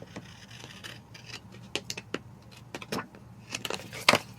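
Scissors snip through material while someone plans in a paper planner, a series of short, sharp cuts with rustling and scraping between them, close by and fairly quiet.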